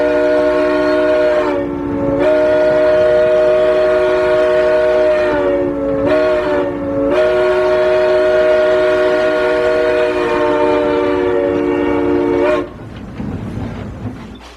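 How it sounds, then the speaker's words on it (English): A train climbing mountain tracks sounds a long, loud, steady horn for most of the passage, with brief breaks around two, six and seven seconds, over rumbling rail noise. The horn stops near the end, leaving quieter rolling clatter. "Train is going up the mountain tracks."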